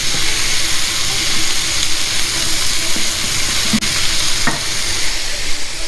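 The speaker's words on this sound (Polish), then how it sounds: "Elegancie się smaży." Constant crackling sizzle of chicken pad thai frying in a pan, loud and close, with a few light clicks of utensils.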